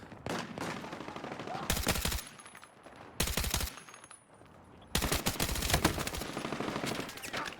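Automatic fire from the KORD-6P67 in the video game Battlefield 6 rips out in three loud, close bursts of rapid shots, with short quieter gaps of ambient game noise between them.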